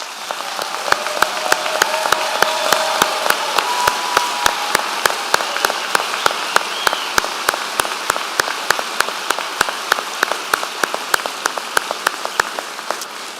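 A large audience at a university spring commencement ceremony claps in a sustained, even roar of applause that holds steady throughout, with faint regular ticking beneath it and no talk.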